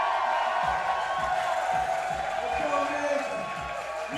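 Crowd at a bouldering competition final cheering and shouting with rhythmic stomping or clapping thumps underneath, a loud sustained roar that eases slightly toward the end.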